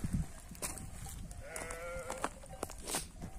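Sheep and goats bleat on a village farm, a few calls from nearby animals rising over quiet outdoor background.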